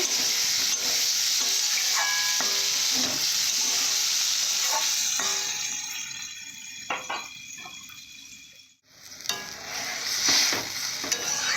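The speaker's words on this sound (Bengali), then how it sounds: "এরপর কালার করার জন্য হলুদ দেবো মশলাটাকে ভালো করে কষে নেব" Turmeric-spiced masala paste sizzles in a pan while a spoon scrapes and stirs it in repeated strokes, the frying hiss fading and returning as the mixture is worked, close and clear with no talk.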